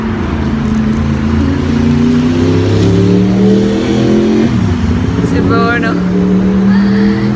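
A motorcycle engine passes near a dog park, its drone rising and falling in pitch as it revs and moves by, loud and steady, while a person talks over it.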